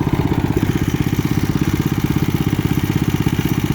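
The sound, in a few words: mini bike engine idling after starting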